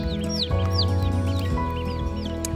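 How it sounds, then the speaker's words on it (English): Young ducklings and pullet chicks cluck and peep steadily while bathing in a small natural pond, a busy close chorus of soft calls with occasional higher chirps throughout. "we're gonna have our little ducklings and our little pullet chicks take a bath in a natural little pond"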